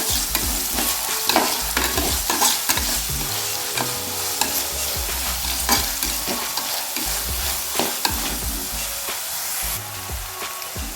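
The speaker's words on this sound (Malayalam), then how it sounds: "അരിഞ്ഞു വെച്ച സബോളയില്ലേ സബോളയും അതേപോലെ തന്നെ ചെറിയ ഉള്ളി നമുക്കിതിലേക്ക് ഇട്ട് കൊടുക്കാം" Chopped onions and small shallots sizzle and fry in a pan for a Kerala-style prawn curry, with steady loud sizzling broken by repeated stirring scrapes and clatters.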